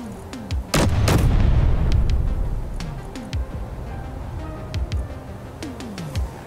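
Gunfire in the video game Space Engineers: repeated sharp synthetic shots with descending zaps, plus a heavy booming burst early on, scattered irregularly and fairly loud throughout.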